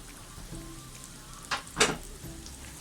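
Sliced onions go into a hot pan for Malabar egg biryani, giving a soft steady sizzle with two brief louder bursts of crackle near the middle, no talking.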